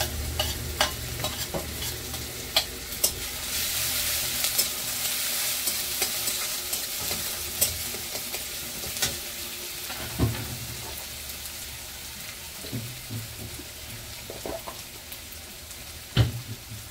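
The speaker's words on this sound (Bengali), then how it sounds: "আমার তেলটা গরম হয়ে গেছে। এখন আমি দিয়ে দেবো পেঁয়াজ, কাঁচা লঙ্কা, রসুন" Onion, green chilli and garlic frying in hot oil, a loud hissing sizzle that swells early and then settles, with scattered spoon scrapes and a sharp knock near the end, heard close and without speech.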